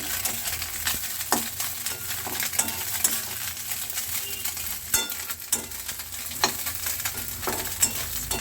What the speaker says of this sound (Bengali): নুন হলুদ মাখানো মাছগুলো সেগুলো ওই কাপড় ভাজা তেলে আমি আর একটু তেল দিয়ে ভেজে নিয়েছি